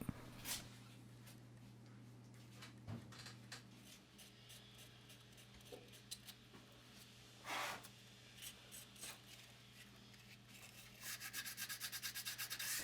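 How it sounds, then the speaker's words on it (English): A knife handle is hand sanded in a knife factory: quiet scratchy rubbing strokes come at irregular intervals, then turn into a quick rhythmic series of close strokes near the end. "Some knives need a little bit extra attention and will be hand sanded."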